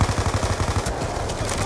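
Rapid machine-gun fire in the Black Ops 2 video game campaign, a fast, even run of loud close shots that stutters briefly and then resumes.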